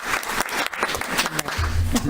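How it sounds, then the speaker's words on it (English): Audience clapping at a financial forum meeting, a short burst of applause from a modest crowd with a voice speaking over part of it. "I'll clap for you, Carlo."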